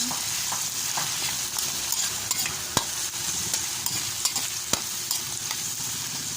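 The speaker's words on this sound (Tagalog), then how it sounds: "At ilagay na natin mga kakusin ang chicken. Ito. Haluin natin mga kakusin." Chicken pieces stirred in a pot for chicken corn soup, a spoon scraping and clacking against the pot in repeated strokes over a soft continuous sizzle, close by with no talking.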